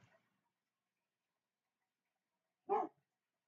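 A single short dog bark, close and fairly loud, after a moment of near silence in a quiet room.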